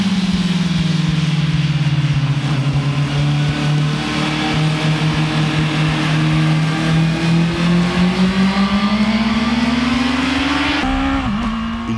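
Motorcycle engine held at a steady high drone while lapping a race circuit marked with cones, the pitch slowly dipping and climbing through the corners, loud and close with no voices.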